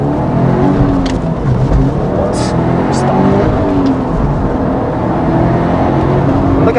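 A turbocharged Subaru Impreza WRX STI GRB with four-wheel drive accelerates, its engine a loud, steady droning roar heard from inside the car, with voices faintly mixed in.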